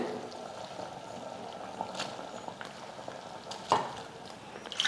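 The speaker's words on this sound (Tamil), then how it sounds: "தண்ணி நல்லா இந்த மாதிரி கொதிக்க ஆரம்பித்ததுக்கப்புறமா" Water bubbles at a gentle boil in a pot before flattened rice is added, a soft continuous simmer with occasional small pops and clinks, fairly quiet and close.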